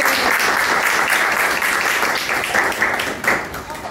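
An audience applauds after a new artwork is revealed, a full, even burst of clapping from a crowd that stays strong before tapering slightly toward the end.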